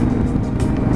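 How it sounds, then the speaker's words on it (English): Engine and exhaust of a 2018 Honda Africa Twin Sport motorcycle on a test ride, a steady low thrum heard close and continuous, with wind rush over it and no talking. "Surely must be able to hear that on the exhaust"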